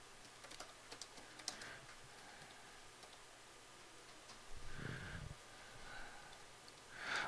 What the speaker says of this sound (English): And I can type them in here.